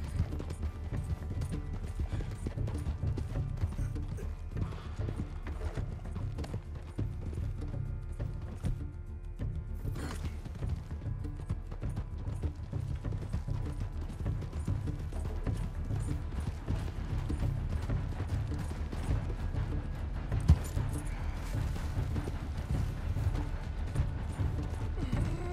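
Horse hooves clop steadily on the ground in Red Dead Redemption 2, a continuous rhythmic thudding gait with faint mechanical creaks beneath, moderately loud and sustained without speech.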